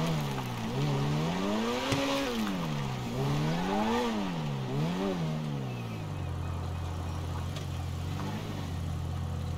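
A car engine in GTA 5 revs up and down in repeated swells, then settles into a steady low idle for the last few seconds, loud and close with no voices.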